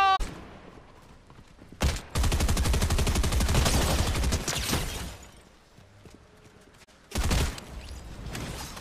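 Rapid automatic gunfire in the video game Fortnite comes in two loud bursts, one long volley lasting several seconds and a shorter one later, with quieter game sounds between them.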